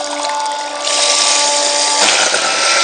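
A DasMorine 12V 750GPH marine sump pump runs on a small 12-volt battery in float mode, giving a steady close motor whine that swells into a louder rushing, splashing water sound.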